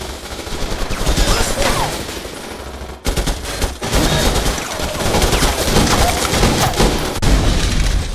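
Loud, sustained bursts of rapid gunfire from a gang-war shooting in an Ayodhya village during a panchayat election dispute. The volleys run almost continuously, with a brief break near the middle.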